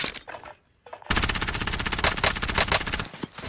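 Gunfire in Call of Duty: Warzone. A short pause gives way to a sustained rapid burst of automatic fire, loud and close, preceded by a few softer shots.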